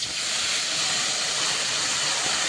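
Water is poured into curry cooking down in a pan, giving a loud, steady hiss and sizzle that fills the whole stretch evenly without any voices.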